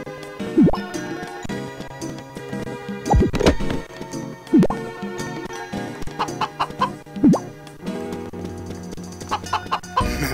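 Video game chickens in Magical Melody cluck and squawk repeatedly with rising calls, busy and fairly close, over a steady background drone.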